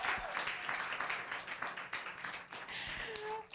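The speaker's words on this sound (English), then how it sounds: "why don't we give Henry Sally a big round of applause?" A crowd at an academic awards ceremony claps steadily for the event organizer, a sustained wash of hands up close that softens briefly midway, with a few faint whoops and a whistle-like tone near the end.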